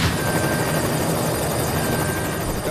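A helicopter flying in the video game Cryostasis, its rotor throbbing as a loud, constant, close drone that fills the whole moment without a break.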